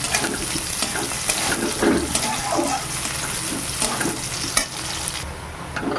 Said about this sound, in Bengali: এবার দিয়ে দেবো পেঁয়াজ কুচি এবার লাল করে ভেজে নেব